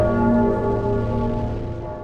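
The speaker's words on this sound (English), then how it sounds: "then we wake up when the bell rings" A large bell from the opening of Dark Souls 3 tolls once, loud and close, its rich ringing overtones sustaining and slowly fading for about two seconds with nothing else heard.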